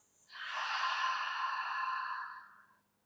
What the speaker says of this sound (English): Take a deep inhale through your nose. Big exhale from your mouth.